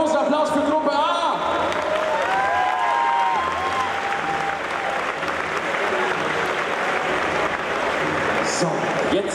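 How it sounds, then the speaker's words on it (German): A convention crowd at a costume contest breaks into sustained applause, a dense, steady wash of clapping with scattered cheers and voices beneath it. "Nochmal einen großen Applaus für Gruppe A!"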